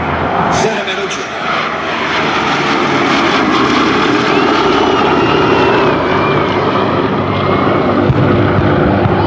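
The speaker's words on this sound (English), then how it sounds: "And now the P-51s are on the roll, ladies and gentlemen. The P-51 Mustangs and the B-17." Piston engines of P-51 Mustang fighters and a B-17 bomber rumble steadily at an airshow as the fighters begin their takeoff roll, a loud continuous drone with crowd and announcer voices underneath.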